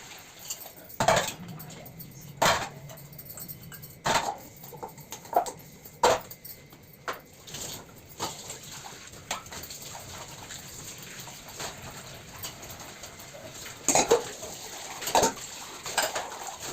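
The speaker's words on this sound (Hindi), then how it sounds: "सिंक पे भी पड़े थे थोड़े से बर्तन, तो उनको धो के रख दूँगी।" Dishes being washed in a kitchen sink in a home, with sharp clinks of pots and utensils striking at irregular intervals over a soft background hum and faint birdsong.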